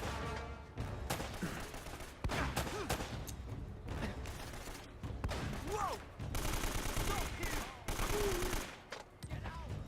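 Gunfire in the Uncharted video game while shooting from the hip, with dense bursts of automatic fire and scattered single shots repeating across the stretch, loud and close, mixed with faint game voices.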